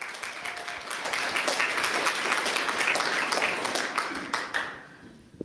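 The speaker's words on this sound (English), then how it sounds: "I think it deserves a clap" Audience at a book launch claps together in a steady burst of applause that holds for several seconds and then tapers off.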